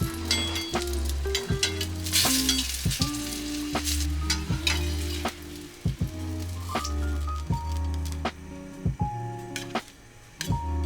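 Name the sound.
food sizzling while pan-frying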